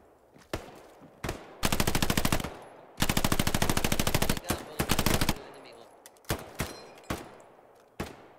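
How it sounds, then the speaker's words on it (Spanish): Gunfire in Hell Let Loose, a World War II shooter: two long, loud bursts of rapid machine-gun fire dominate, with scattered single shots and distant cracks before and after. "Abrid fuego a donde creáis que hay algo."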